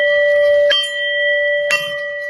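A meal bell at a Buddhist hermitage rings out clearly twice, each strike bright and sustained, the second about a second after the first, the tones ringing on without fading much.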